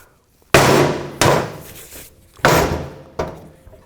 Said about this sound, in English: Hammer it down flush, so it looks good.